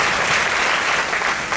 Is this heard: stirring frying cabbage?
no